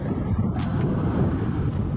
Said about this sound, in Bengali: বাইকটায় কিন্তু উইন্ড ব্লাস্ট লাগছে, বেশ ভালো উইন্ড ব্লাস্ট লাগছে।